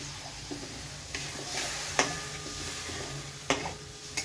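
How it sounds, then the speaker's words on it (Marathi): A glass of water poured into a hot wok of masala for kacchi dabeli filling sizzles steadily at a low level, with a few sharp clinks of a spoon against the pan and no speech. "त्याच्यात थोडंसं पाणी घालूया आपण कढईत मी एक ग्लास पाणी घालते"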